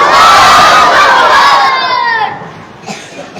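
At an Islamic religious gathering, a large crowd answers a takbir call with a loud, unified roaring chant that holds for about two seconds, then fades into scattered voices.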